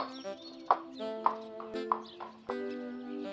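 A cartoon horse, left behind by a trailer, makes a tonal whinnying call with a few clip-clop hoof hits beneath it, over steady musical background tones.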